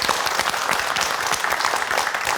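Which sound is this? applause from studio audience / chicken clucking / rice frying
applause from studio audience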